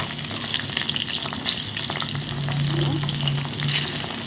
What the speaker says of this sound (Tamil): எண்ணெய் ஊற்றி நல்லா கொதிச்சிச்சு இப்போ இதை வந்து நம்ம ஒரு ஸ்பூனில் எடுத்து போட்டுக்கலாம்